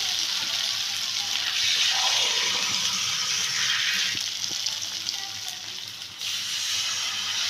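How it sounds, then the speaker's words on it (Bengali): Hissy water sound as a little water goes into a raw potato and semolina pakora mix in a hot pan, a steady wash with a brief swell and a sharp change near the end. "এবার আমি সামান্য একটু জল দিচ্ছি"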